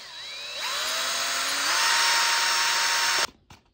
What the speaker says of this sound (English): Now this is where I start making holes where the Sharpie marks are for my snaps